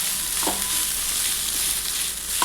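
Noodles with vegetables and Maggi masala frying in a pan, giving a steady, dense sizzle with a couple of brief stirring scrapes, close up and with nobody speaking.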